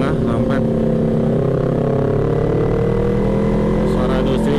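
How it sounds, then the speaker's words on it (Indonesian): A two-cylinder Kawasaki Ninja 250 motorcycle engine hums steadily and loudly nearby, with a continuous droning tone from start to finish. "Suara 2 silinder banget anjay."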